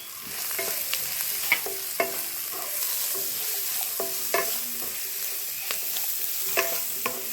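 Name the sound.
onions sautéing and frying for liver roast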